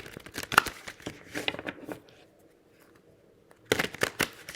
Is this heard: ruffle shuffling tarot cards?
yes